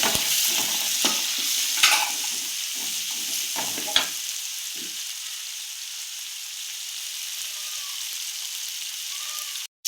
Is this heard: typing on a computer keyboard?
no